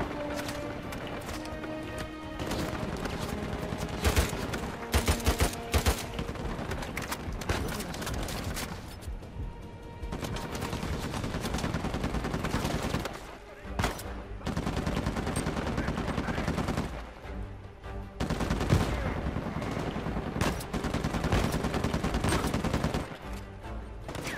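Dense, loud gunfire in Uncharted 4, rapid automatic bursts and single shots layered almost continuously with brief lulls, heavy combat ambience throughout.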